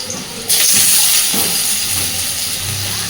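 Diced potatoes hit hot oil in a wok for a snake gourd curry, setting off a sudden loud sizzle that keeps hissing steadily, close up and with no talking.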